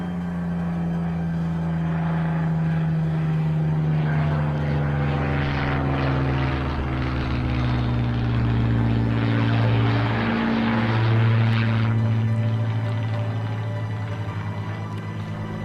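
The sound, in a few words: propeller plane diving and looping overhead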